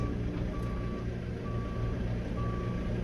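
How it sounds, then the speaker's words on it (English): A Diggerland Groundshuttle ride vehicle at Diggerland Durham gives three evenly spaced, clear reversing beeps about a second apart over a loud, steady engine rumble. "we reverse out the bay first before we head our way around the track"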